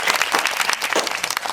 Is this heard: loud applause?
yes